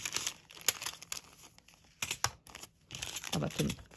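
Small piece of paper crumpled by hand for craft embellishments, a close, crackly rustle in irregular bursts with brief pauses between handlings.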